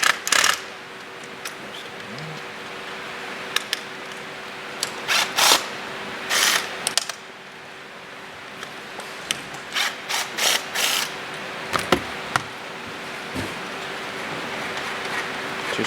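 Screws being backed out of the 360-degree camera bracket inside a Nissan NP300 OEM side mirror, a string of short sharp ratcheting clicks and plastic taps at close range, irregular and scattered over a quiet background.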